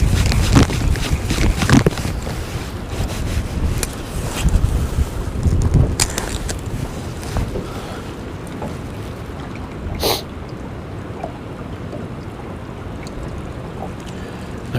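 Wind buffets the microphone while fishing on a lake in February, a loud continuous rush with gusty thumps and occasional small knocks, no talking.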